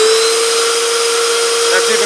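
A Vacmaster Beast 12 gallon shop vacuum runs with its silencer fitted, a steady whining drone with a strong sustained tone that holds level throughout, close and loud, with no pauses.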